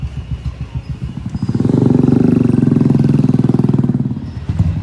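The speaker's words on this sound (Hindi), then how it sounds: "अब कक्कू जा रहा है दोबारा से उसकी राइड लेने।" A Royal Enfield Thunderbird 350X motorcycle with changed handlebars ridden close by: a loud, rhythmic single-cylinder thump that swells into a revving roar as it accelerates, then settles back to a pulsing idle beat.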